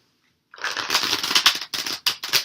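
Tarot cards being shuffled by hand, a close, loud riffling burst after a brief silence, then three short separate shuffles.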